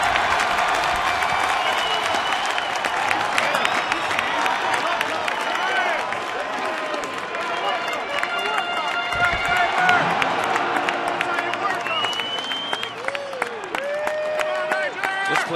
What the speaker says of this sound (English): Crowd coming to their feet.